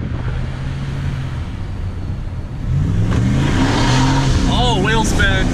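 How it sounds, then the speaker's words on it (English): Boosted Ram truck accelerating hard with wheel spin, its engine note rising in pitch and growing louder midway, with a person talking over it near the end. "Oh, wheel spin."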